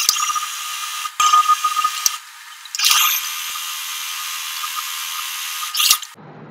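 A sewing machine stitches the neck of a nighty in quick bursts of close, high-pitched whirring, separated by short pauses and handling clicks, with no talking.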